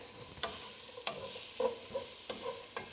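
Onions frying in a pan over raised heat, a soft steady sizzle broken by about six scraping stirs of a utensil at irregular intervals, close and fairly quiet.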